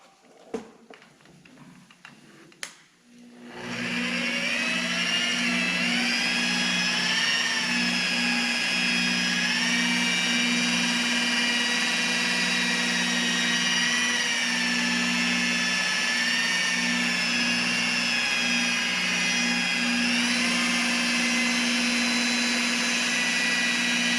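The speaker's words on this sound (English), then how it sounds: "I just have an inexpensive polisher. I'm using the 3M rubbing compound. And we'll just give this a buff." A few handling knocks, then a rotary polisher with rubbing compound buffing truck paint spins up into a loud, steady high-pitched whine and drone that holds without pause, close by.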